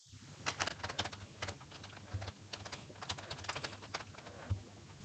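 Rapid, uneven key clicks from a computer keyboard while entering data in an Excel spreadsheet, close and fairly quiet, with bursts and short pauses over a low steady hum.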